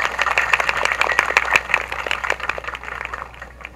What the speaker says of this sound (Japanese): どうぞ皆様、温かい拍手でお迎えください。